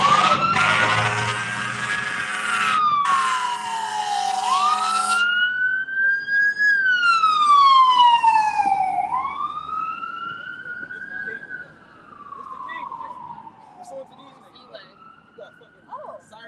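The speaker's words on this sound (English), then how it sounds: "Sirens and all type of noises" Police and emergency vehicle sirens wail outside, loud and close, their pitch sweeping up and down in long rising and falling cycles, briefly overlapping with a rapid yelp, with some distant street noise beneath.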